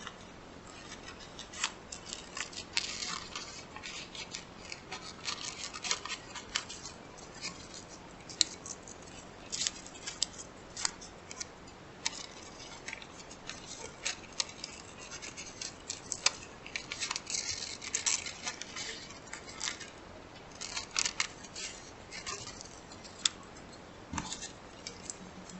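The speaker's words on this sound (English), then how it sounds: "cut away this extra paper if it makes it easier for you" Scissors snip through paper while cutting out pieces for a preschool aardvark and anthill craft, a steady run of close, crisp clicks and snips with no voices.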